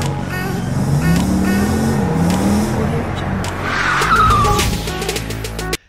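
A short intro sting for a Car Parking Multiplayer game segment. It is loud, with revving engine tones and squealing, skidding tires layered together, and it cuts off abruptly at the end.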